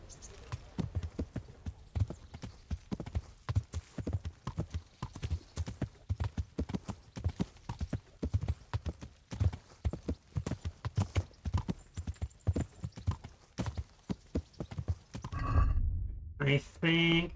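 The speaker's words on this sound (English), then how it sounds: "I can go and do some more traveling around on horseback instead of fast traveling everywhere." Horse hooves clip-clop rhythmically in a video game as the horse travels at a steady walk, close and clear for most of the clip, ending with a soft snort or whinny and a brief passage of other game sounds.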